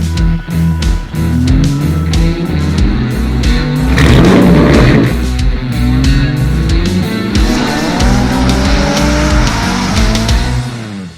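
A classic Fiat 500 with a 170hp Subaru engine in the back revs hard and loud throughout, rising and falling through the gears with a brief squeal of tires in the middle.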